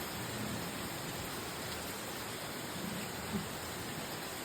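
Heavy monsoon rain falls steadily, a continuous broadband hiss at moderate distance with faint patter, no voices and a single small knock near the end.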